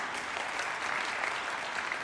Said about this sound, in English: may we continue to give them a round of applause.